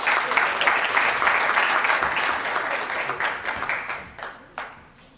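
An audience at an award ceremony during an M&A forum applauds warmly. The dense clapping holds steady for about four seconds, then thins out into a few scattered final claps.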